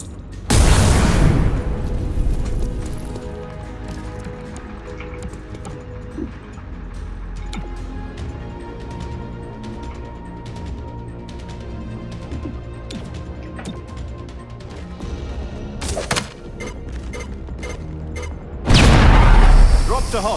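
A grenade detonates in XCOM: Chimera Squad with a loud, deep boom at the start, followed by a sustained rumble of combat sounds and another heavy blast near the end, with voices calling out during the fight.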